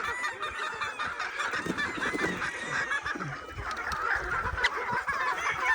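Pullets on a farm cluck and call in scattered, overlapping bursts, fairly quiet and continuous, with no one speaking.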